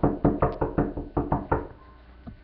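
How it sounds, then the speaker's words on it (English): A door knocked on in a rapid string of about nine firm raps, close and loud, in quick uneven rhythm before stopping, leaving quiet room tone. "It looks like they're knocking on the door."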